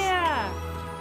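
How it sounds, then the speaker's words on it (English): An excited horse noise from a My Little Pony cartoon: a short, loud, voiced whinny-like cry that slides downward in pitch and fades quickly, heard alone. "that's your excited horse noises"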